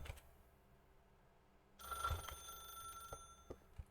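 Telephone ringing in The Stanley Parable video game, a quiet electronic ring with steady tonal lines that starts about halfway through and continues over faint background hum.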